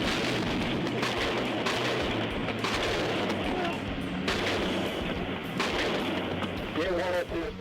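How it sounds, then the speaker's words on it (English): Rapid gunfire from a police shootout in a busy intersection, more than twenty rounds, with repeated loud sharp bangs cutting through a dense, noisy background and voices, ending with a brief sung or musical tone. "The gunfight consists of more than 20 rounds in the middle of a busy intersection."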